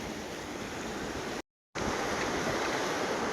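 Swollen river water rushing and surging in a steady broadband roar, loud and close, with a brief dropout midway and no voices over it.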